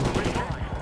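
Rapid machine gun fire from Medal of Honor crackles in a dense, continuous burst, loud and close, spraying at trees.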